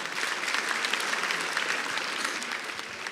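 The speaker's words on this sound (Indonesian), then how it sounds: "Sekali lagi tepuk tangan buat Ridwan Remin" Studio audience at an Indonesian stand-up comedy competition applauding comedian Ridwan Remin, a thick, even wash of clapping from a large crowd that holds steady and tapers slightly toward the end.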